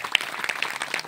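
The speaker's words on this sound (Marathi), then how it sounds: "टाळ्या वाजवा" Audience applause at a village vote-of-thanks gathering honoring young volunteers: brief, moderately quiet, continuous clapping from a crowd.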